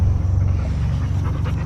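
Pit bull dog panting, a steady rhythmic breathing close by over a low rumbling background.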